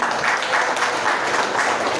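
Audience applause at a hospital launch event, a dense, steady burst of clapping from a crowd, fairly loud and close, lasting the whole short stretch with no talk over it.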